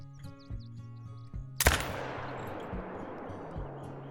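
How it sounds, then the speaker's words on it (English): A single sharp rifle shot aimed at a buck about 450 yards away in the hunting game Call of the Wild, cracking loudly mid-clip and trailing off in a long echo over quiet ambience and faint bird calls. "we're gonna have to go for about a 450 yard shot"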